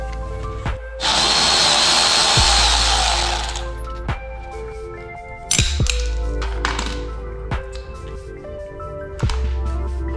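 A power tool removing bolts during installation of an ASI BAC4000 or BAC8000 unit: a loud burst of whirring, then sharp metallic clunks and knocks as parts are handled nearby.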